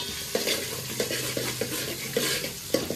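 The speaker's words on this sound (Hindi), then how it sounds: "अभी और एक बार मिक्स कर देंगे।" South Indian sambar with vegetables being stirred in a pot, giving repeated scraping strokes in a quick, uneven rhythm over a soft sizzle, close and clear without speech.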